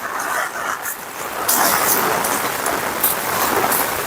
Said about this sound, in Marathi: पाऊस बघा किती खूपच लागतो